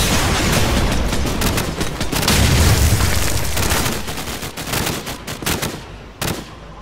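Call of Duty 4 combat erupts in dense automatic gunfire and heavy booming blasts, a loud sustained barrage of rapid shots that thins into scattered bursts and single cracks toward the end.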